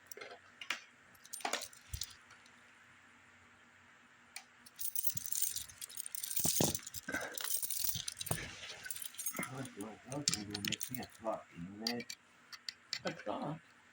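A bunch of keys jangles and rattles up close in repeated metallic shakes, quiet at first and then busier and louder, with people talking intermittently.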